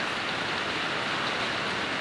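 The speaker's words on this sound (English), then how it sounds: "Sorry for the rain noise." Steady rain drumming on a roof during woodworking with a broken planer, a dense continuous hiss that fills the whole stretch, with no voices over it.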